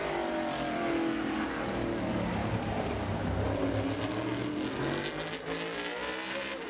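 A modified race car engine roars during qualifying at Bowman Gray Stadium, a loud sustained snarl that shifts pitch as it accelerates and decelerates around the track, heard alone without talk.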